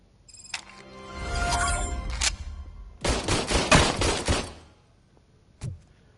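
Rapid bursts of gunfire from a player's upgraded, reload-free gun in the video game RoboCop Rogue City, loud and close, with sustained volleys and a final short burst.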